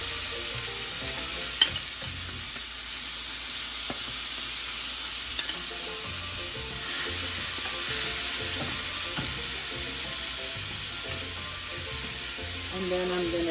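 Soy, ginger and garlic sauce sizzles steadily around salmon in a hot pan, a close, continuous crackle with a few small clicks and faint background murmur.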